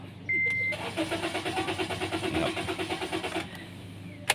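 A Honda City with a blinking N indicator light cranks and starts, a near, loud, rhythmic churning of the starter for about three seconds before the engine catches, followed by a faint click.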